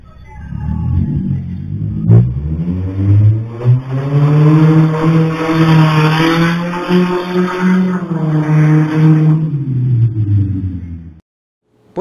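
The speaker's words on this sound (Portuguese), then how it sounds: "não bastasse o barulho ensurdecedor desse carro que passou a madrugada inteira rodando pelo povoado" A deafeningly loud car cruising through a village at night, its engine roaring and revving continuously for about eleven seconds, rising and falling in pitch, close and dominant, then cutting to near silence.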